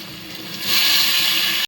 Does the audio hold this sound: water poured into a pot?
yes